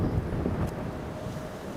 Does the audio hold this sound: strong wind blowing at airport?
yes